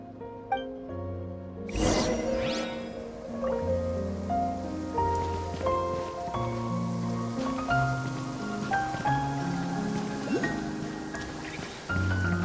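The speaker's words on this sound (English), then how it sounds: "Rain." Rain falls in a fantasy video game, a steady wash of patter under a sustained musical score with gentle tonal notes and a sharp sweeping accent early on.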